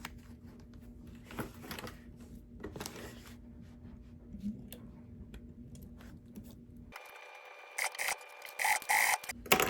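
A sewing machine stitches a bag seam with zipper tape in a few short, quick bursts near the end, after a quiet stretch of faint background hum and low voices.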